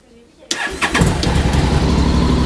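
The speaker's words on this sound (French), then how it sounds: "Maintenant je vais essayer de démarrer pour voir." Motorcycle engine starting after a jump start from another battery, a brief crank then catching and settling into a loud, close, steady idle.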